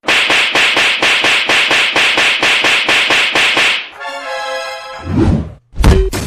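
Rapid, regular thuds of a man being beaten at a railway station, a steady burst of blows for about four seconds, then a tonal wail and scattered knocks.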